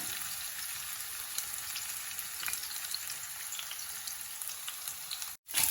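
Fish fries slowly in about four teaspoons of oil in an uncrowded pan, cooked for a sour tomato fish dish. A steady, close crackling sizzle carries on with faint pops, cuts out for a brief instant, then resumes.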